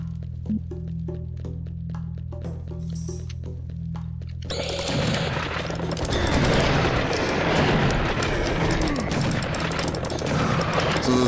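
A quiet stretch with a low hum gives way to sudden heavy gunfire and explosions in Serious Sam HD: The First Encounter. Dense, loud blasts and shots continue to the end.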